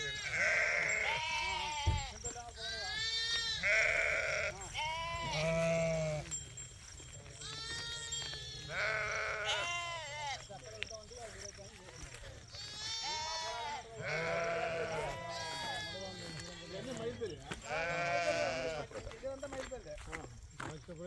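Sheep bleating repeatedly in a rural farm setting, several loud overlapping calls from a flock close by, mixed with people talking throughout.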